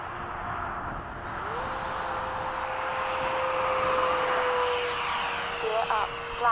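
A Freewing 90mm F-15 Hot Rod RC jet flies in windy conditions, its ducted-fan whine sweeping upward and holding steady under gusting wind noise.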